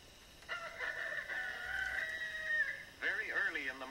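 A rooster crows loudly and close, one long drawn-out call followed by a second wavering crow, standing alone without speech.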